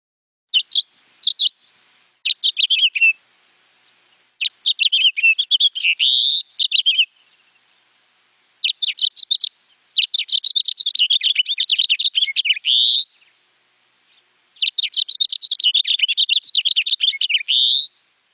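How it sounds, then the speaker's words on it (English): A house finch sings in repeated bursts of fast, high, warbling phrases with frequent pitch changes, loud and close, separated by short pauses in otherwise silent surroundings. "the house finch tends to sing at a faster tempo and has more changes in pitch."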